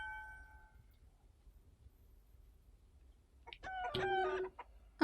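Chicken in the video game World's Dawn giving a short burst of clucks near the end after a quiet stretch, preceded by a faint tonal chime at the start, with no voices.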